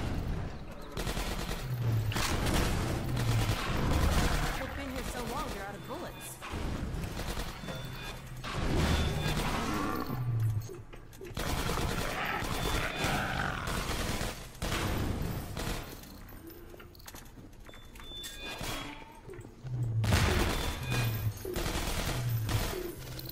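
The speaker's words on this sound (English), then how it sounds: "Oh, I heard a turret there." Rapid automated turret gunfire rattles through a Half-Life 2: Episode 1 firefight, with dense repeated bursts and crashing impacts filling the scene almost continuously, loud and close, with brief lulls between volleys.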